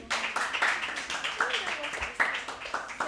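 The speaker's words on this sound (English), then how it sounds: "A round of applause for him." Classroom quiz audience giving a small round of applause, a handful of uneven, distinct claps fairly close by, faint overall, with speech mixed in.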